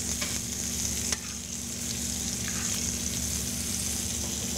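Venison medallions and chanterelle mushrooms sear in hot butter, a steady close sizzle running throughout with one brief clatter near the start and faint scrapes over the crackle.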